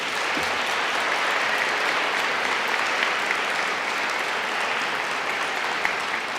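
A lecture audience applauds after a Gifford Lecture in Glasgow, a broad, sustained wash of clapping from a large crowd that stays level and unbroken by voices.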